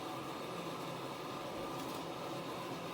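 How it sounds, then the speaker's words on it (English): Domestic washing machine drawing in water while filling, a steady broadband rushing hiss that holds at an even, moderate level throughout with no pauses. "Do apologise, you might hear some water. That's just the washing machine filling up."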